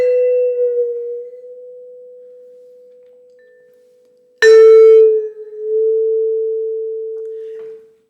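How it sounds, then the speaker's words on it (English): Vibraphone bar sustaining a pure tone, then freshly struck with a pitch bend mallet pushed along the bar, the ringing note sliding slightly in pitch and fading; a second sharp attack midway, played alone. "I'm pushing the pitch bend mallet throughout the bar, like in the middle or from the middle to the other end, to make this effect with one hand"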